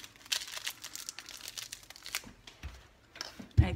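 Paper soap packaging for Aleppo soap bars is folded by hand, giving close, irregular crinkles and crisp rustles in quick bursts, ending with a louder thump.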